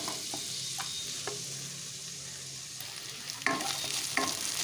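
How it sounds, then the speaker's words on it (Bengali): Thinly sliced garlic cloves and onion frying together in a pan, a soft, steady sizzle with occasional scraping strokes of stirring, louder near the end. "রসুন পেঁয়াজটা একসাথে ভেজে নিচ্ছি।"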